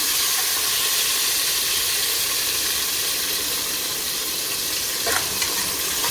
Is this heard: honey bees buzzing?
no